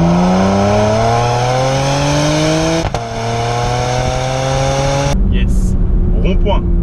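Porsche Macan Turbo with Performance Pack, its engine revving hard and pulling through rising gears with a brief shift break, loud and close from inside the cabin before the tone drops off toward the end.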